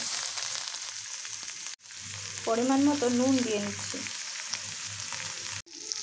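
Onion, tomato and capsicum fry in mustard oil in a pan, a steady close sizzle running throughout while someone speaks over it briefly, with a short break midway.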